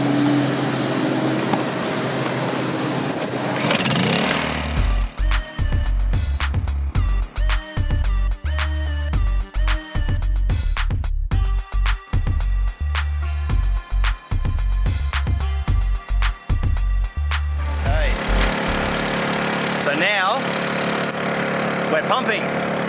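A petrol generator runs steadily to power a pump drawing natural seawater on the Gold Coast, a continuous close engine hum with sharp clicks and knocks over it, and someone talking at the start and end.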